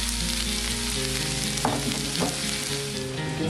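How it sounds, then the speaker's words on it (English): A large batch of sliced onions frying in a pan, a dense, steady sizzling hiss close up with a couple of brief stirring scrapes midway. "let it fry for about 10 minutes and you'll see this come down to almost about half"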